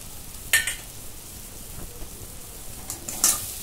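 Spice powders, red chilli, turmeric, coriander and garam masala, sauté in a hot pan for bhurji, giving a soft steady sizzle broken by a few sharp clinks and scrapes of a spoon stirring.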